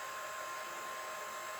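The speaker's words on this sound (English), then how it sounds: "and dry it with the dryer" A hair dryer blows on alcohol inks with a steady, even whir and hiss, close and constant throughout, with no voices.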